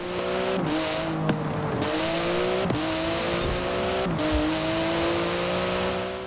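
A lowered, tuned turbocharged Kombi van accelerating hard, engine revving up in repeated rising sweeps broken by quick gear-shift dips, loud and close, with sharp clicks between shifts.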